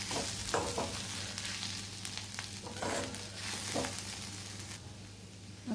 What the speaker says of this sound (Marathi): तर आपण आता खोबरं भाजून घेऊयात त्याच्यात